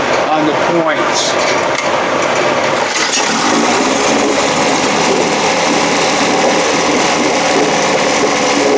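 A small Evinrude 7.5 outboard motor runs steadily after its points were cleaned, its continuous high buzzing engine note loud and close throughout.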